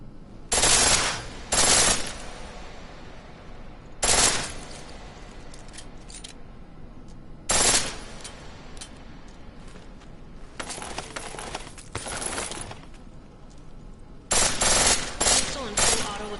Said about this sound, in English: Pistol and full auto will take down targets fast, but it'll burn through your ammo